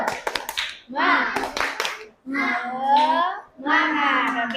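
Children in a classroom call out a chant together in bursts, broken by sharp rhythmic hand claps, with a short pause between phrases.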